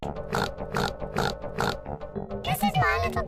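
A voice imitating a pig's snorting oinks, as in a Peppa Pig intro parody, makes four rhythmic snorts close to the microphone, then a more voiced, squealing grunt at the end.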